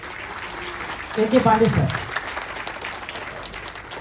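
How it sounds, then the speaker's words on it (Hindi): An audience at a networking event applauds, giving a steady wash of clapping throughout the short moment while a voice speaks briefly over it. "एक बार और जोरदार तालियां।"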